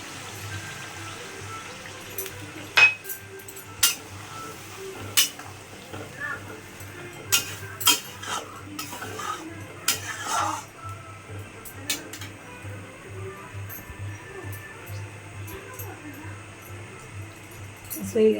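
Potato curry (aloo dum) being stirred in a pan: scattered light scraping and clinking of a spoon against the pan over a steady low kitchen hum, with faint sizzling in the background.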